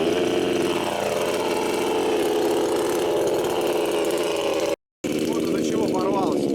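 A small engine, started without choke in a remote Far North setting, runs with a steady, continuous idling drone at moderate loudness, broken by a brief cutout near the end before resuming.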